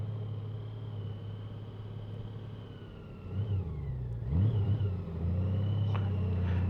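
Honda Goldwing motorcycle engine making a slow U-turn on back roads in Lake City, a steady low rumble that swells as the rider throttles through the turn, with no talking.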